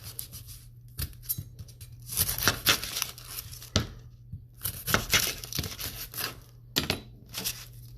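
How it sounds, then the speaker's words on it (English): A knife slices the ends off an onion on a cutting board, giving bursts of crisp crunching and tearing cuts with short pauses between them, close up and with a steady low hum underneath. "when you're doing the cooking the onion, you're going to cut off the edges"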